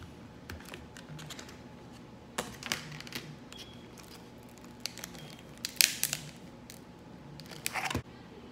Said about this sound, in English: We're gonna cut this in half and we're gonna start getting our 1 pound soap cut up